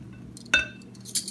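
A utensil clinks and scrapes against a bowl while olive oil is stirred into the ingredients, with a sharp clink at first and then a few lighter taps, close and quiet.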